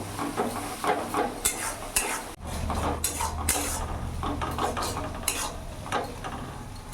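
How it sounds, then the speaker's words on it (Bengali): Ginger garlic paste stir-fried in a pan for a Hyderabadi chicken dish, with a steady sizzle under repeated scraping and clinking of a spoon against the pan, close and fairly loud throughout. "আদা রসুন বাটা আমি ছোট চামচে দু চামচ দিয়ে দিলাম এবার সি মাছ করে ভালো করে কিছুক্ষণ কষিয়ে নেব"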